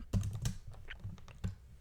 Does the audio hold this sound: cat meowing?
no